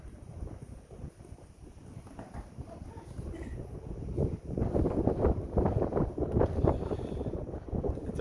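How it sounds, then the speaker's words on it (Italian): Strong morning wind buffets the microphone outdoors at Palio horse race trial runs in Piancastagnaio, rough low rumbling gusts that swell louder in the second half, with no clear voices. "Un forte vento questa mattina"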